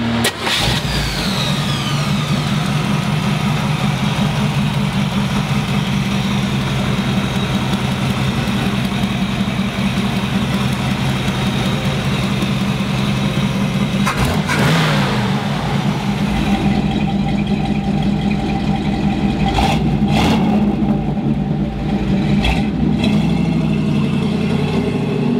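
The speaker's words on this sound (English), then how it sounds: "Let's take this big block for a ride. Of course, it's a big block Chevy." A 1969 Chevrolet Camaro with a big block Chevy V8 rumbles at a loud, close idle, with a brief rev partway through and a few clunks near the end.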